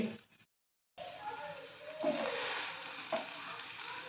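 Sliced athalakkai vegetable fries and is stirred in a pan, giving a steady close sizzle with a few scraping stirs after a brief silent gap at the start.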